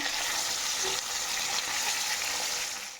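Shrimp frying in a pan gives a steady, close sizzle that runs unbroken through the whole stretch, with no voices over it.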